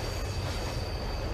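A moving train in a horror video game rumbles steadily, its wheels grinding with a high, sustained metallic squeal over a loud, continuous low roar close by.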